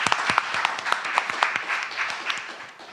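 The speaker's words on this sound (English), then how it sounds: "Applause is a good thing. We like applause here in this teaching, right? You like applause? Love applause." Audience at an in-person Sunday celebration service applauding steadily, a dense, even wash of many hands clapping that carries on throughout and tapers slightly toward the end, with faint voices mixed in.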